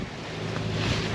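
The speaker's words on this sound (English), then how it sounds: "The wind is 21 knots." Strong wind of about 21 knots rushes past a sailboat at sea on the Pacific between Panama and the Galapagos, a dense, continuous roar with a slight swell in loudness and no voices.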